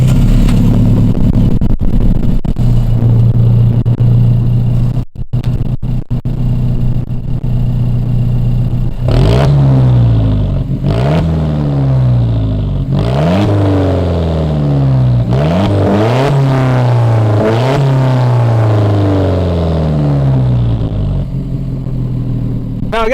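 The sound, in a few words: Alfa Romeo 4C exhaust on warm engine start-up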